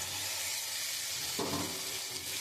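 Fish roe dropped into fried spice paste without onion in a hot pan, a steady close sizzle that surges louder partway through as the roe hits the oil, continuing alone.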